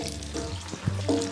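Onions, carrots and a bouquet garni sizzle in butter for duck à l'orange, a steady close frying hiss with a few sharp crackles and pops, no voices over it.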